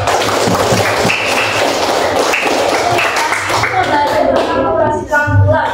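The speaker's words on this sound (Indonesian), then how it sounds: "tepuk tangan dulu" A classroom of students claps together during a school mathematics lesson on adding and subtracting integers, a dense burst of hand claps with a few sharper slaps, and voices talking over the room throughout.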